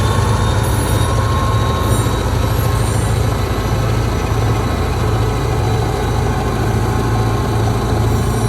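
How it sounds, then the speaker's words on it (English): A freight train rumbles steadily close by, heavy low rolling noise with faint wheel squeals and metallic tones throughout. "train built, everything hooked up, air in the lines, time to get back to Dartmouth."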